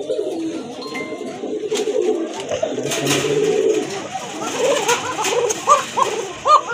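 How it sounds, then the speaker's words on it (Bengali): Big male pigeon on a farm giving its chest coo: repeated deep, close, rolling coos that grow louder toward the end, over faint background noise. "বুকের ডাকটা দেখেন"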